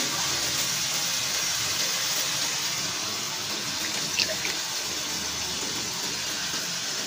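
Water runs from a tap in a home kitchen, a steady broadband rush that stays even throughout.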